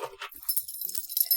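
A bunch of keys jangles close by in brief metallic clinking bursts, bright and light, with short pauses between shakes.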